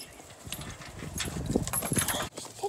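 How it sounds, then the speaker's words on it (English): A horse paws and digs in mud with its hoof, giving a run of soft, irregular thuds and squelchy scuffs close by, with no talk over them. "She's digging in the mud with her hoof."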